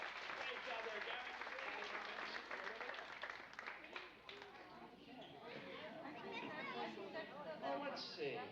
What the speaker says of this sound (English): Let's give him a big round of applause for helping us out, everybody.